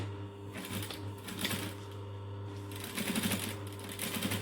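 A sewing machine runs steadily, stitching pieces of fabric one after another in a chain, its fast mechanical whir rising and falling in short runs with brief slowdowns between.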